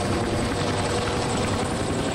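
A helicopter in the video game Battlefield: Bad Company 2 roars with a loud, dense rotor wash that fills the whole moment at a steady, unbroken level.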